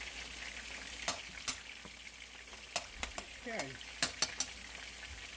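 Ground turkey and Italian sausage sizzling in a pan, a steady soft crackling hiss with scattered sharper pops and stirring scrapes, fairly quiet, while a voice briefly speaks.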